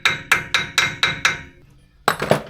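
A hammer taps metal Landcruiser axle parts in six evenly spaced, ringing strikes, then after a short pause two quicker strikes follow, close and fairly loud.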